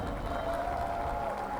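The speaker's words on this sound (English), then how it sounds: "Crowd getting a little excited now." At a compound men's team archery gold final between Denmark and Russia, a crowd applauds and cheers with a brief, moderately distant swell of clapping and voices.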